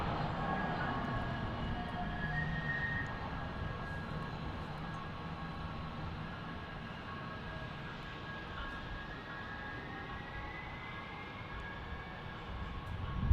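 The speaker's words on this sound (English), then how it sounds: "Next arrival will be Delta 2458 on runway 17." Delta airliner arriving on runway 17 at Salt Lake City airport, a steady distant jet engine roar holding level across the whole stretch, with a faint whine drifting above it and no voices.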